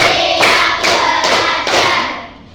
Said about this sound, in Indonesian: Tepuk 1, tepuk 2, tepuk 3, tepuk 4, tepuk 5